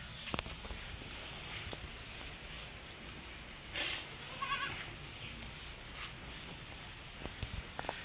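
Goats being fed give a single short, sharp bleat amid quiet rustling and shuffling, with a fainter bleat following and scattered light footsteps.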